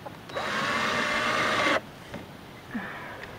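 A Black & Decker 20 volt lithium cordless drill whirs in one short burst of about a second and a half, close by, followed by quiet handling noises.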